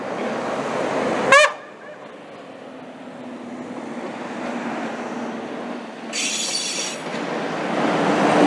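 A train at Slatina railway station sounds a sharp, brief horn blast, followed by the low rumble of rolling wagons and another squealing, tonal burst from the wheels or horn later on.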